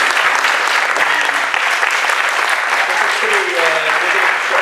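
A crowd at a startup demo night applauds steadily throughout, dense clapping filling the room at a constant level with a faint voice underneath.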